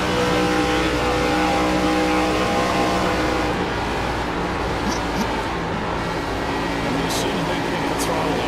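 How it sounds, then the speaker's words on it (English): ARCA stock cars race at speed around a two-mile Michigan speedway at night, a loud continuous engine roar filling the whole stretch under the commentators' voices. "These are ARCA cars, for God's sakes."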